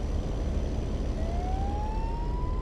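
Police car siren in the American Truck Simulator driving game, a rising wail that enters partway through over a steady, loud rumble of road and engine noise.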